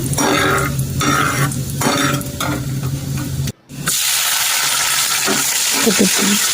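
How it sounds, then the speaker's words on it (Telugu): Cumin seeds and slit green chillies frying in hot oil in a pan, a steady close sizzle with stirring scrapes, a brief dropout midway, then the crackle resumes. "నూనెలో ఫ్రై అయ్యేదాకా వేపించి"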